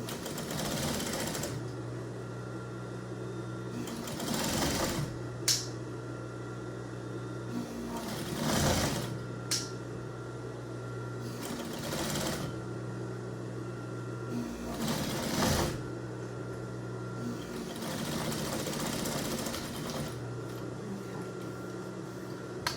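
A sewing machine hems a homemade apron in repeated runs of rapid, steady stitching, close and loud, separated by short pauses, with brief clicks and handling noises in between.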